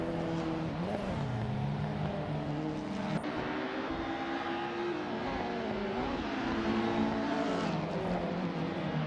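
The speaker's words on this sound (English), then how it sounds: "Bot Detoxins is driving a 1994 Volvo 850 Estate." A 1994 Volvo 850 Estate engine drones and revs in a racing video game, its pitch rising and falling with gear shifts over a steady hum, with other cars faintly audible around it.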